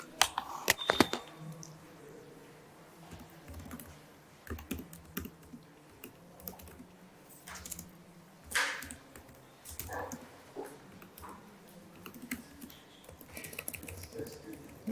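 Typing on a computer keyboard, keys clicking in irregular bursts and runs at close range, with a few louder strikes, otherwise alone over quiet room noise.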